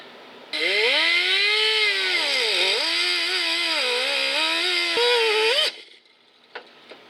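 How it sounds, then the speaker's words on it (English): A cut-off wheel grinds through a door hinge pin on a square-body Chevy truck, a loud, sustained high whine of about five seconds that wavers in pitch as it bites, then stops abruptly, followed by faint clicks. "Get the cut-off wheel. So we'll just finish up this cut."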